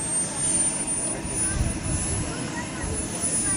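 A model A-4 Skyhawk jet's turbine spools up at an R/C airshow, starting on propane and switching to kerosene: a steady, loud roar with a high whine holds throughout, with voices faintly mixed in beneath the engine noise.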